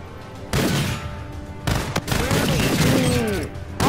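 Video game gunfire in a Team Deathmatch match, with scar rifles firing in rapid bursts, loud and close, broken by short pauses while voices talk over the shooting.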